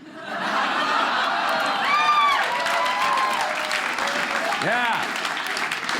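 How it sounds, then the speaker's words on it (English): Audience applause at a Dry Bar Comedy stand-up show: a dense burst of clapping fills the room, with a few chuckles and a brief spoken word over it. "Those are Republicans clapping."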